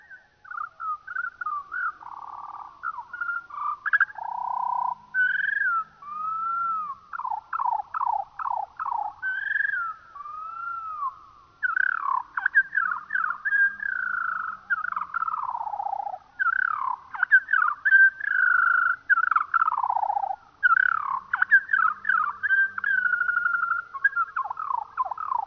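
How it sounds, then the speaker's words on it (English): Slowed-down skylark song plays alone as a long series of warbling, swooping whistled phrases and rapid trills, with short gaps between bursts. "let's hear a little bit more of that slow motion lark song."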